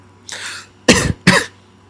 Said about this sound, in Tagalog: pasensya na kasi inuubo pa rin talaga ako